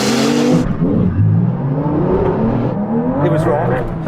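A Porsche GT2 RS and a tuned 911 Carrera launch in a drag race, with loud close engine roar and revving rising in pitch, then the sound fading as the cars pull away.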